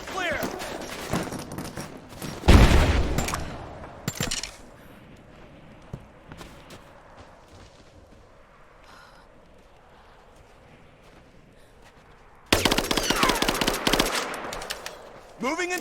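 Covering gunfire in the Rise of the Tomb Raider video game erupts in loud automatic bursts, one short and one longer, with a quieter stretch of footsteps and voices between them.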